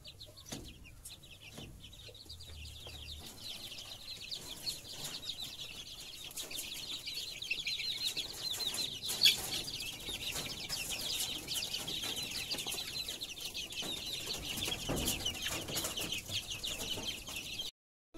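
Chickens cluck continuously in a farmyard kept alongside young muscovy ducks, a faint steady layer of clucking and chatter with occasional wing flaps and no clear talk.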